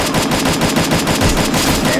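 Rapid automatic gunfire from a mobile shooter game rattles loudly and continuously in an even, fast rhythm of close-up bursts, with no voices over it.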